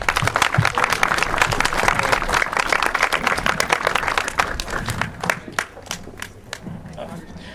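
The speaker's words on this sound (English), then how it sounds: "So we could give every one of those individuals a round of applause" Audience applause at a reopening ceremony for the historic San Elizario Jail, dense clapping that thins out toward the end as a voice speaks over it.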